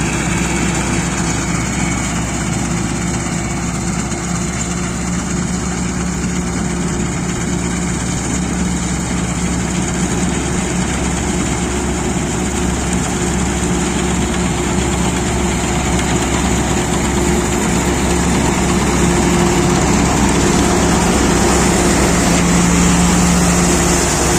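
A Sampo 500 combine harvester's heavy engine idles loudly and steadily without pause during a barley and wheat harvest, a dense constant drone with a faint whine on top.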